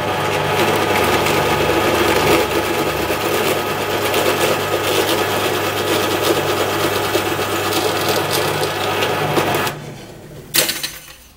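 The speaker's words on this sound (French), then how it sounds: "Donc je me mets l'extrémité, je perce." A drill bores through wood while making a wooden compass, a loud, steady close whine lasting about ten seconds before stopping abruptly, followed by a short knock.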